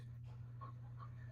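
A big dog pants excitedly indoors, a steady close breathing rhythm under a low constant hum, with faint whimpering tones rising briefly.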